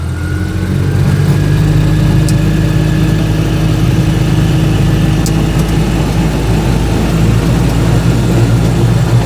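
An Invacar invalid carriage engine heard onboard, a loud steady drone with low rumble as the small car slowly gathers speed pulling away.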